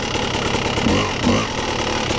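A Yamaha YZ250 two-stroke dirt bike engine revs in gear with the clutch pulled in, a steady loud buzzing drone that swells briefly twice without pausing.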